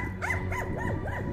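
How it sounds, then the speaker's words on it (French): A neighbour's dog barks excitedly, a quick run of several rising and falling yips and barks, somewhat distant, with a steady background hum. "le chien du voisin, il s'excite complètement"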